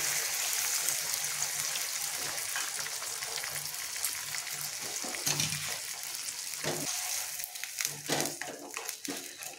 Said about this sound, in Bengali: এবার একটু জল দিয়ে দেব। দুই বাটি জল দিয়ে দেব।